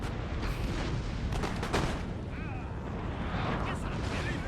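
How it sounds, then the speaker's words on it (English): Cannon artillery booms in a Napoleon: Total War battle, several deep reports thudding amid a dense roar of battlefield noise, with a voice speaking over it. "I just want the cannons start firing into the middle of all of those men"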